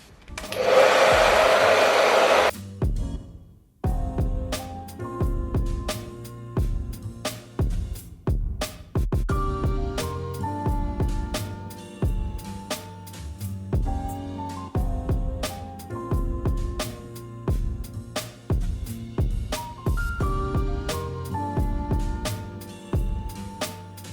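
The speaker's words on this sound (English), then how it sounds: "But I'm gonna go ahead and start diffusing." A hair dryer fitted with a diffuser roars loudly for the first few seconds while drying curly hair, then cuts off, leaving music with a steady beat playing for the rest of the stretch.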